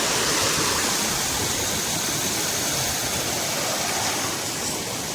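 Steady, loud rush of a mountain river in the Pangi Valley near Sural Bhatori waterfall, a continuous broadband roar of fast water filling the whole stretch without pause or speech.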